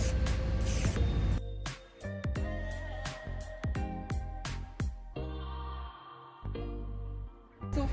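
Aerosol spray paint hissing onto a tin cookie box, short bursts repeated several times in an uneven rhythm, then a longer steady spray near the end, close and fairly loud with no talking.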